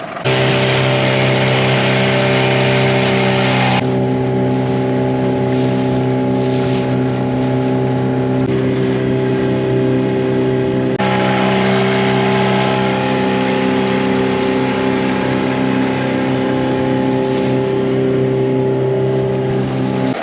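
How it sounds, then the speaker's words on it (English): A Tohatsu 9.8 two-stroke outboard motor runs out on a lake with a loud, steady buzzing drone that holds an even pitch for the whole stretch, with water wash beneath it and no voices. "let's just kind of see what this motor does out on the lake"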